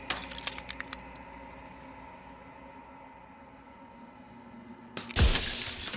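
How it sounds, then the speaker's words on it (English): A mirror cracks and bursts into glass shards in the video game Slay the Princess: a few sharp cracks, then a quiet hum, then a loud bright shatter with tinkling debris. "And then another crack forms, and another, turning the mirror into jagged shards of broken glass."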